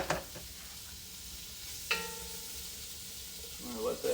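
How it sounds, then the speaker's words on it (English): Meat sizzling and frying in a Dutch oven for jambalaya, a steady low hiss with a couple of sharp clattering knocks and a brief bright clink partway through. "You hear that sizzle."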